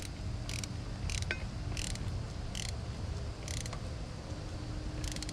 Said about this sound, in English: And grab your ratchet.